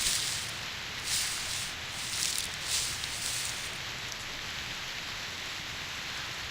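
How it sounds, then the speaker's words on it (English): Heavy rain falls steadily in the video game Reverse 1999, an even, continuous patter and hiss with slight swells and no talking. "The rain is getting heavier."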